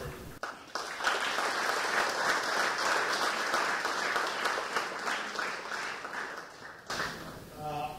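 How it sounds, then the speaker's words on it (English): An audience gives a sustained round of applause at a college robotics challenge, loud, dense clapping filling most of the clip before ending abruptly, with a voice heard at the edges. "Round of applause."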